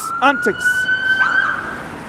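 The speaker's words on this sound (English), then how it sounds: "An ambulance or fire brigade goes by." An ambulance or fire engine siren passes by on the street, a steady high wail held at moderate distance, with a few brief chirpy sounds near its start.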